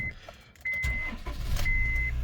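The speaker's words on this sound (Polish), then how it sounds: "Dobra, odpalmy go. Posłuchajmy silnika." A 2007 Honda CR-V 2.0 petrol engine with 228,000 km cranks and catches into a low idle, close by, while a dashboard chime beeps twice.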